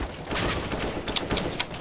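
Sustained automatic gunfire in Counter-Strike: Global Offensive, a fast rattling burst of rounds, loud and close, filling the short moment.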